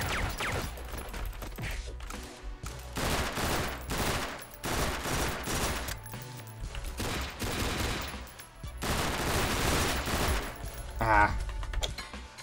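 Enemies in Madness Interactive Reloaded fire guns in repeated bursts of sharp, loud rapid shots with brief pauses between, clustered like a fusillade, with someone talking intermittently underneath.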